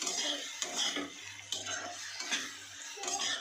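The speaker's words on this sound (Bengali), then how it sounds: "ভালো করে লাল করে ভাজা" A metal spatula scrapes and clinks against a pan in quick irregular strokes while bitter gourd fries with onion, salt and turmeric, a faint sizzle underneath.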